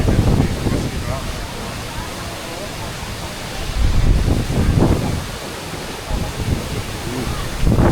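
Waterfall on a misty mountain in the Philippines, a loud broadband rush of falling water mixed with gusts of wind buffeting the microphone, steady throughout.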